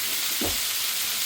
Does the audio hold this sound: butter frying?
yes